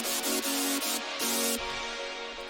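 Hardstyle lead chord presets in FL Studio, a bright, dense synth chord progression played in short, rhythmic stabs that rise and fall in brightness, with no talk.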